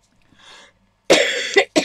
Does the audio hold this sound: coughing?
yes